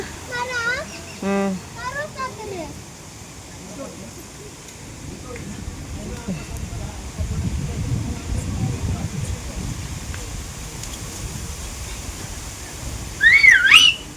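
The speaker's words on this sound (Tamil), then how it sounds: "விசில் அடிக்கூடாது தப்பு" A person whistles a short warbling tune at the start, then a single brighter rising whistle near the end, with quieter background noise and faint voices between the two.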